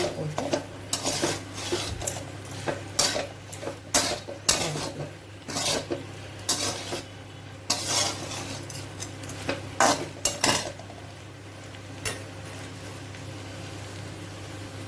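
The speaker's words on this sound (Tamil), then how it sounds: "ஒரு 2 நிமிஷம் கிளறிட்டு அடுப்பு அணைச்சிடலாம்" A spoon scraping and stirring an okra and coconut stir-fry in a metal pan, with irregular close clinks and rasps over a faint steady hum.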